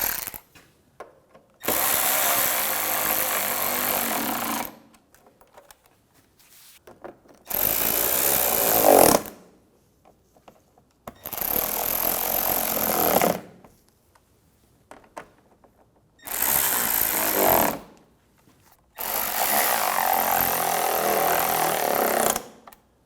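A power tool, likely an impact driver or drill, tightens nuts on a 2009-2013 BMW 328i xDrive during washer reservoir work, running in five loud bursts of two to three seconds each with short quiet gaps between.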